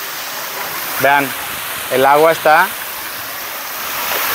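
Water in a children's pool at the Dreams Playa Mujeres resort in Cancún gives a steady, even rushing wash throughout, with a person briefly speaking over it.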